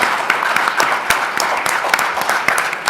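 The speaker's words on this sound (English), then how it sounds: "Can you please give a big applause to our panel?" A summit audience applauds a panel, with dense, sustained clapping from many hands that stays fairly loud and even across the whole stretch.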